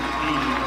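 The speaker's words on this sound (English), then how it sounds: "As the Bulldogs crowd and the Waynedale Golden Bears crowd getting loud" Loud, dense crowd noise at a high school baseball state semifinal between Waynedale and Heath, fans of both teams roaring together in a steady, unbroken wash of cheering throughout.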